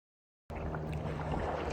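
Stand-up paddleboarding in the open ocean off Oahu during a long-distance race, with a steady wash of water and wind noise that begins abruptly and continues close to the microphone.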